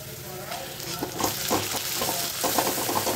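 Egg frying in a pan with garlic and ginger, giving a loud, continuous sizzle with crackling bursts and soft stirring scrapes, close up and with no voices.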